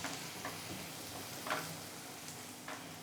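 Onion and chopped green chili sautéing with garlic in a pan over a low flame, giving a steady soft sizzle throughout with a few faint stirring clicks and scrapes.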